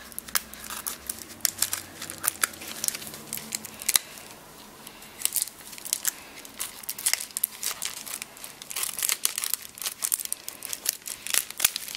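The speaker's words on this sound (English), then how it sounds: "it's just a silver bubble mailer, so let's go ahead and open it." A silver bubble mailer holding a November mystery craft kit is torn and cut open, giving repeated sharp crinkling, snipping and tearing bursts up close for about twelve seconds, with no talking.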